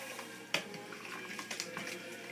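Utensil scraping and clinking against a pot while stirring black beans with a bacon, onion and garlic mixture, with a sharp knock near the start followed by softer wet stirring sounds.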